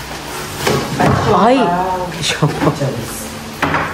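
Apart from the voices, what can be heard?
marble plate being handled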